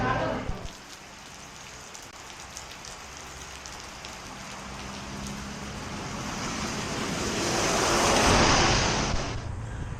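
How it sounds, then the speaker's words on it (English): Steady rain falls on a climbing road near Kuala Lumpur, a dense continuous hiss that swells louder toward the end, with faint passing traffic underneath. "and then it started raining"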